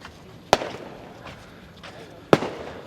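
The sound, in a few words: fireworks going off at night over Sanur Beach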